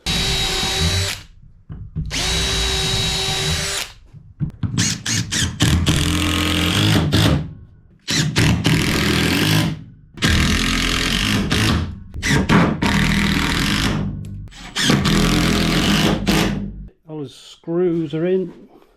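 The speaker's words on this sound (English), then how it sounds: "Okay, so get some screws in here now then." A cordless power drill drives screws into the plywood of a budget workbench on wheels, in a series of loud close bursts separated by short pauses, with someone talking in between.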